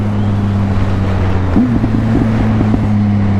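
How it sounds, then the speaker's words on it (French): Triumph Speed Triple 1050 R motorcycle exhaust drones steadily under rushing wind, with a short burst of warbling throttle blips midway. "C'est la ligne d'échappement."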